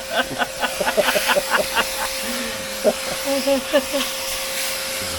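A vacuum cleaner runs steadily throughout with a constant breathy hiss and a thin whine, while voices talk over it nearby.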